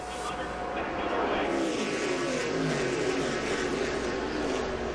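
A pack of ARCA race cars roars up to speed on a green-flag restart at Daytona in 2009, a dense sustained engine drone with rising revs, loud and continuous, with a broadcast voice underneath.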